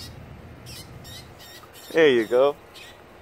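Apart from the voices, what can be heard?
wild bird calling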